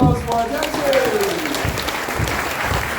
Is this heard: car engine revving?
no